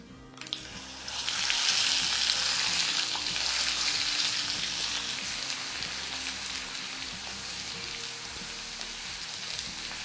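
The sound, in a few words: sautéing masala in oil for soya masala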